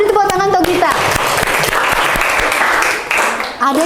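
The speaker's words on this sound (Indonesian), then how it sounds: "Beri tepuk tangan untuk Gita." A classroom bursts into steady, loud applause for a student. The many hands clap densely together and the clapping fades slightly near the end.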